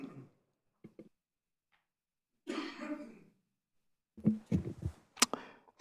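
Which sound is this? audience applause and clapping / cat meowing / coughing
coughing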